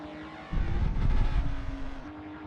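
Race cars lapping the Catalunya circuit in a racing video game, a low engine rumble swelling up as cars pass and then fading back, over a steady tonal drone.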